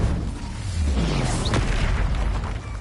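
A fire spell cast in the Hogwarts Legacy video game bursts out as a deep whooshing boom with a falling rumble, a brief bright flare midway, then a sustained roar that fades into ambient game noise.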